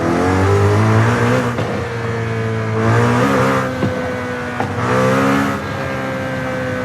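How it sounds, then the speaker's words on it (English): A McLaren V8 turbo engine in Forza Horizon 5 revs loudly and close, rising and falling in three pulls with a steady droning tone between them, alone without voices. "McLarens have this very distinct V8 sound, which is so different to all the other cars"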